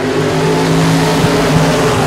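Limited modified race cars roar around a dirt speedway, with engines droning loudly and continuously as several cars run close together, the pitch holding steady with slight swells.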